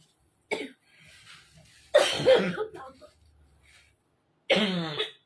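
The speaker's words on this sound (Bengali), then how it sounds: "আমার কাশি হচ্ছে।" A woman coughs in three separate harsh bursts close to the microphone, with quiet pauses and faint background sound between them.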